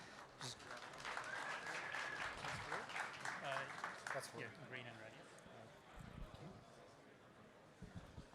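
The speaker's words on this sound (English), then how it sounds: "please give Lukas a big round of applause" A conference audience at Pragma Tokyo 2023 claps and cheers for several seconds, the applause swelling early and then thinning out into scattered claps and murmurs.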